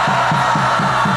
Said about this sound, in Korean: 여러분 함성 한번 질러주십시오